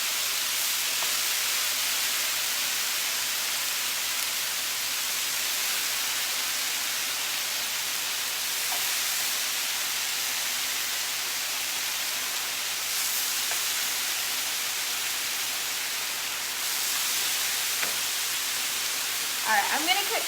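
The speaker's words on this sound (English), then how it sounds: "put our layered turkey bacon out and get that started. I mean, don't you love the sizzle?" Steady broadband hiss of turkey bacon sizzling in a pan, continuous and fairly loud throughout, with a brief clatter near the end.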